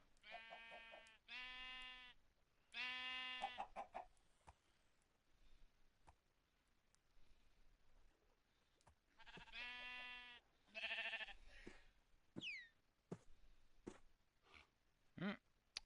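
Sheep bleat loudly and close from up on a roof, several drawn-out cries in two clusters separated by a quieter pause, with a few short higher chirps near the end.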